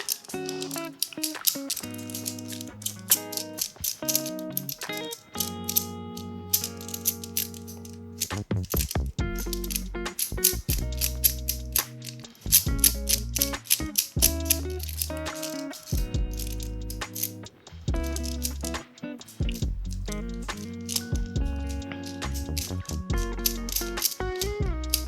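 Small cast-metal Hanayama Cast U&U puzzle pieces rattle and click as a nut is rotated and worked, a close, busy stream of bright metallic taps and scrapes with no talking.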